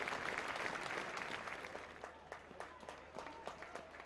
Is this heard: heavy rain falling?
no